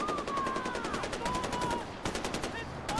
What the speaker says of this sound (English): I hear more shooting.